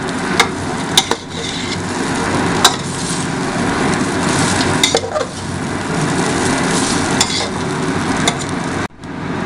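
Egg chow mein noodles stirred and fried in a hot pan, a steady sizzle with scattered metallic scrapes and clinks of the utensil against the pan, continuous and close, with no talking.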